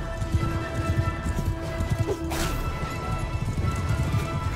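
Horse hooves clatter steadily amid a dense, noisy battle din in the video game Mount and Blade II: Bannerlord, with a brief sharp crash in the middle; continuous, busy and fairly loud throughout.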